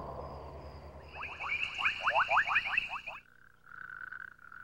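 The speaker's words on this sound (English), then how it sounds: "The male Koki frog has a two-part call" A male Koki frog gives its two-part call: a rapid, loud series of high, chirping notes followed by a lower, steadier tone, heard clearly over faint background hiss.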